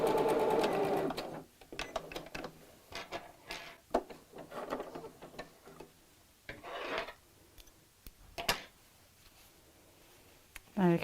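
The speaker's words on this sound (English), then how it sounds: "And I'll sew on the machine." A sewing machine runs straight across the waistband of a doll's garment in short bursts of stitching with pauses between them, close and fairly quiet.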